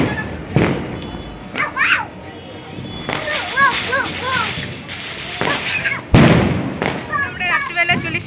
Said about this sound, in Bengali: আর চারিদিকে সব জায়গাতে বাজি ফাটানো হচ্ছে